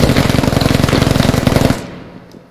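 Rapid anti-aircraft gun fire in a video game, a loud, fast, evenly pulsing burst of shots lasting over a second and a half before cutting off and trailing into a fading echo.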